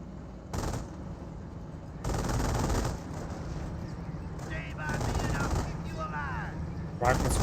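Rapid rifle and automatic gunfire from Rangers in the Company of Heroes battle, sustained bursts crackling almost continuously at close range, with a faint voice underneath.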